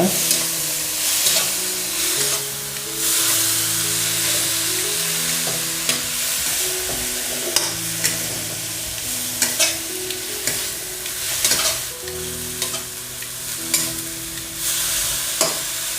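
Mint chutney (pudina thogayal) ingredients fry in a pan with a continuous close sizzle, broken by repeated spatula stirs and scrapes, while soft music plays in the background.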